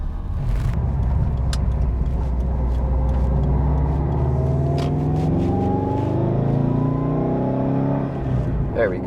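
Subaru WRX STI cruising slowly around the block, a steady low engine rumble with gentle rising revs through the gears, heard from inside the car.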